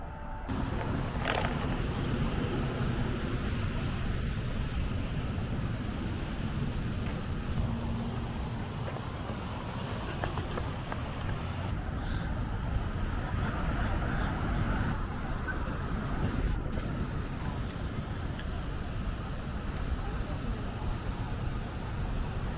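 Wind rushing through a downtown Portland street during a bike ride, a steady low buffeting roar mixed with passing traffic, with brief voices over it.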